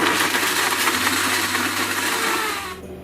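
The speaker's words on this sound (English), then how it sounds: "Now just turn your food processor or blender on high and blend until it's all crumbly" A food processor or blender runs on high for about three seconds, a loud steady whirring roar with a dense grinding texture that cuts off abruptly near the end.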